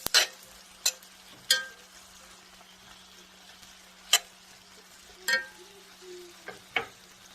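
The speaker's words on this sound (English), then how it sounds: "And my vegetables are frying on the stove." Food sizzles in a pan with scattered sharp clinks and scrapes of a utensil stirring, irregular taps over a low steady hum.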